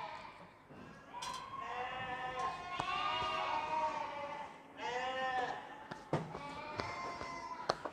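Sheep and their lambs bleat inside a farm barn, several overlapping calls rising and falling in a busy chorus, with occasional knocks and thumps among the animals.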